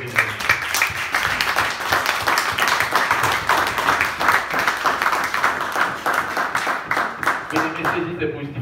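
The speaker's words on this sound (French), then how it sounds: "Applaudissons pour la prédication." A congregation at a church service breaks into sustained, dense applause that holds steady at a lively level and thins out toward the end.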